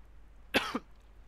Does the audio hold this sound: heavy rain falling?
no